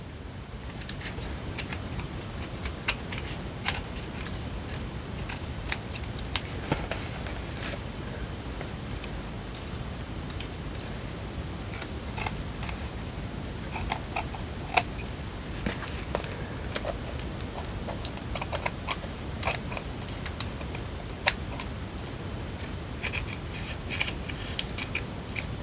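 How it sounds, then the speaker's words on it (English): Small scissors snip paper in soft, sparse clicks at close range, scattered irregularly over a long stretch with a faint background hiss. "I'll use a pair of small scissors."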